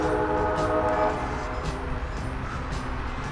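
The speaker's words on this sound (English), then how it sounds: "And here comes a train." A train passes close by outdoors, its horn sounding in steady tonal blasts over a continuous low rumble of rolling cars, fairly loud throughout with no talking.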